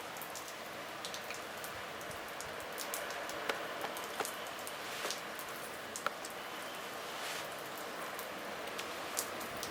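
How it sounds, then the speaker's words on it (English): Steady rain falls on the south shore of Oahu as Hurricane Douglas approaches, a soft continuous hiss with occasional close drips and taps, heard alone and fairly faint. "So rain coming in."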